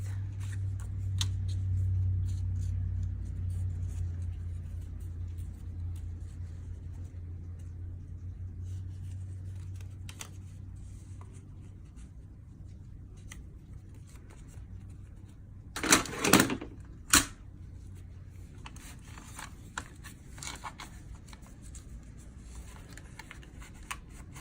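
Paper cut to length for a handmade micro traveler's notebook from a 6-inch paper pad: a quiet stretch with a low hum, then a short cluster of crisp snips close by, and a single snip just after.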